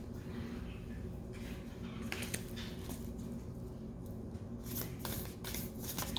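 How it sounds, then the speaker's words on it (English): White Light Oracle cards being shuffled by hand during a Scorpio tarot reading, a steady run of soft riffling and papery slaps that carries on for several seconds, close and clear over a low room hum. "I'm shuffling the White Light Oracle for you"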